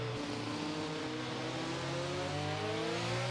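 McLaren race car in a PGR racing game at the Belgium circuit, engine droning steadily while its pitch climbs under acceleration, close and continuous.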